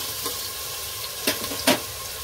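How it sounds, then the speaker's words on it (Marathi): Tomatoes seasoned with salt and turmeric sizzle softly in a pan, with a couple of brief scraping stirs of a spoon near the end. "टोमॅटो गळेपर्यंत आपण याला मिक्स करून घेऊया चांगलं।"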